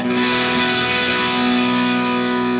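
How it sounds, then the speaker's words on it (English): A sustained, heavily distorted electric guitar chord through an amplifier's distorted channel rings out loudly with a thick, buzzing tone and no talking. "All that distortion is coming from the amplifier."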